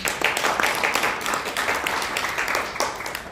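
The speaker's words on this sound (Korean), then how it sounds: "다시 한번 큰 박수 부탁드립니다." Audience applause at a political group's launch event, a continuous close wash of many hands clapping, steady and fairly loud, with no voice over it.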